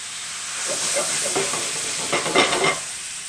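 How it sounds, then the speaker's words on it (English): A hot pan for chicken piccata is deglazed with fresh lemon juice and Pinot Gris, producing a loud, close burst of sizzling and bubbling with light scraping, steady for about three seconds before fading. "Then we're going to add our fresh lemon juice, which will deglaze the pan."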